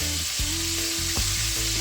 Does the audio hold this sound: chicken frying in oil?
yes